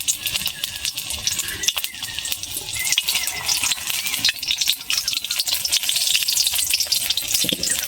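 Bakphul flower fritters with onion and chilli sizzle in hot oil on low heat, a steady dense crackle and hiss throughout with no one speaking.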